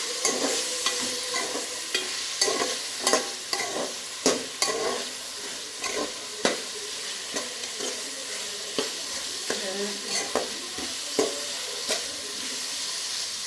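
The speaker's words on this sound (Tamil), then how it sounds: "நல்லா அதை கிண்டிக்கணும்." Beaten eggs sizzle and fry in a pan for fried rice while a spoon stirs them, giving repeated scraping clicks over a steady close hiss with no talking.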